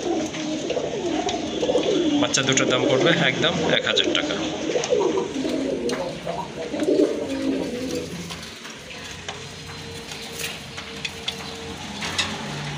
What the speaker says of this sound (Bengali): আর এখানে এক জোড়া রাজগোল্লা কবুতর আছে